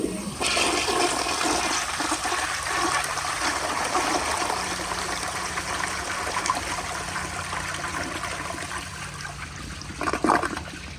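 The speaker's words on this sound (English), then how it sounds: "Not a bad flush." A 1965 Kohler Barlow toilet on a flushometer flushes with a loud rushing gush of water. The flow settles into a steady stream and trickle, with a brief clunk near the end.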